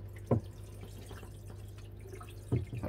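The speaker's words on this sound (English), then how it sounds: "I can hear the baffles overflowing." Water overflowing the baffles of an aquarium sump makes a quiet trickle with a few distinct drips and splashes over a low steady pump hum.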